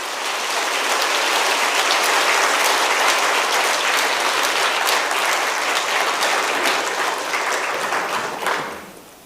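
Sustained applause fills a large church hall at a Wednesday worship service as a visiting pastor is welcomed to the pulpit. The dense, steady clapping from the congregation holds loud for about eight seconds, then quickly fades out.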